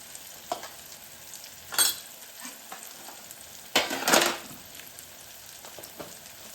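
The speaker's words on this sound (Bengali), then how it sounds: "এবার আমি সমস্ত কিছু একসাথে কষিয়ে দেবো।" Ground spices, cumin, coriander and Kashmiri chili, being cooked down with paneer bhurji in a pan, giving a low steady sizzle broken by two louder bursts of stirring and scraping; no one speaks.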